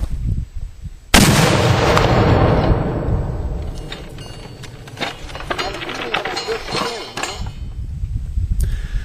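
A British 7-pounder gun fires a black powder charge with a 4.1 kg kirksite projectile at a 100-yard range, giving one sudden loud boom that rolls into a long, decaying rumble and scattered echoes over several seconds.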